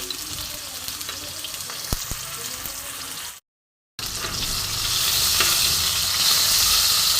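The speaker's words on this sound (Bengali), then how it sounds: "টমেটোটা একটুখানি আমি নেড়ে নেবো" Tomato pieces sizzle in a pan while being stirred, giving a close, steady frying hiss with scraping strokes, broken by a brief full silence before the sizzle returns louder.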